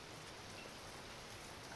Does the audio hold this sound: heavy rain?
yes